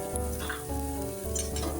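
Gravy sizzling and frying in hot oil for a raw banana dish, a steady close crackle with occasional stirring clinks, no talk over it.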